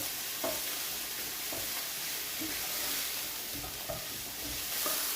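Garlic and food browning in a frying pan for spaghetti bolognese, a dense steady hiss of sizzling with a few faint stirring knocks, close and even throughout.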